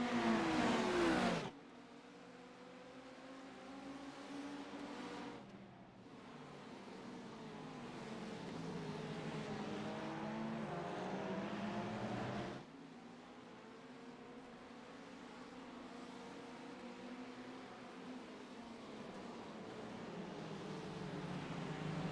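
GT3 race cars roar around the Daytona road course in a sim racing game, with sustained engine whine and shifting revs from the cars close by, broken by a few abrupt cuts.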